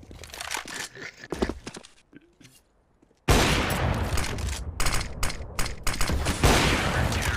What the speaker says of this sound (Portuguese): Abaixa que tá tendo tiro.